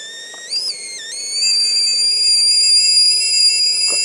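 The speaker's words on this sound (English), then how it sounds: "And it whistles, like a kettle's supposed to do." A stovetop kettle at a wild camp in a forest whistles loudly and steadily, its shrill tone wavering and dipping briefly near the start before settling into a sustained, piercing whistle with no talk over it.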